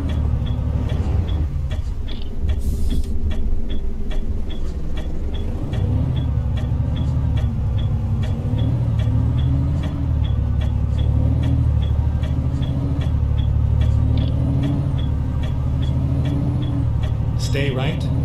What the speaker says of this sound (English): get back into the truck